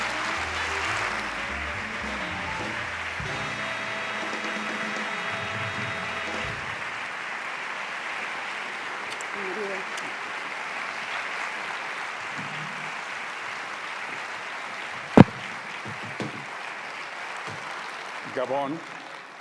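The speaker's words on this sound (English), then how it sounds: "Please give a round of applause to the director, Alfonso Cuarón, who returns to the festival today to present the award" Sustained applause at a film festival award ceremony welcoming director Alfonso Cuarón, an even wash of crowd clapping held for many seconds, with a sharp knock near the end and faint music and voices beneath.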